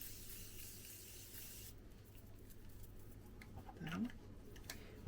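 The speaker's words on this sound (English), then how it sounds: "Morphe Continuous Mist setting spray." Morphe Continuous Mist setting spray hisses steadily for a couple of seconds, then stops, leaving quiet room noise with a faint murmur.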